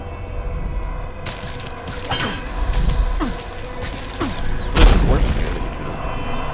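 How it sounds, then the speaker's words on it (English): A grenade goes off in the stealth game Dishonored, with deep booming blasts and sharp cracks over a rumbling background, the loudest burst landing late in the sequence. "I'm going to use a grenade because it's like I never get to use them"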